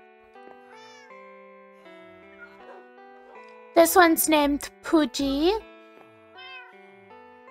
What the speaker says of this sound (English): And I got a couple cats